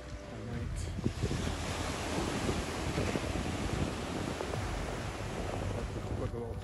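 Waves breaking on a beach on a windy winter evening in east Scotland, a continuous broad roar of surf mixed with gusting wind buffeting the microphone, close and fairly loud with no talking.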